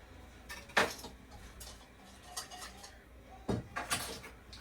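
A whisk stirs masamorra, a sweet pudding with vanilla bean, in a pot, making soft scraping swishes and light metallic clinks in irregular bursts, close but quiet.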